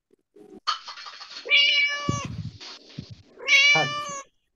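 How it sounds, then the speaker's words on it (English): A cat meows several times, with drawn-out, pitch-bending calls that are close, clear and unaccompanied by talk. "Cat. Cat. Cat. Cat."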